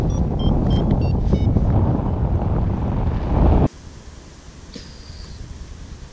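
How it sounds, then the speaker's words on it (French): Strong wind buffets the microphone during a ride down toward Merano along the Adige, a loud broadband roar for almost four seconds before cutting sharply to a quieter, steadier rush. "Il commence pas mal de vent."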